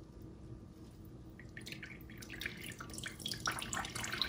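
Water poured into a pothos plant pot trickles and splashes steadily, draining out the bottom, growing busier and a bit louder toward the end, with no voices.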